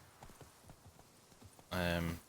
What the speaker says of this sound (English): Stupid goddamn horse.